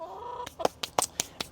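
Backyard chickens from a mixed flock of ten cluck in a quick series of short, close, sharp calls, preceded by a brief drawn-out note.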